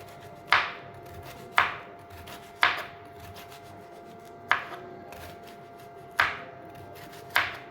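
A knife chops through bitter gourd (karela) on a board in six sharp, evenly spaced strokes, each crisp cut ringing briefly before a pause, close and clear with no talking.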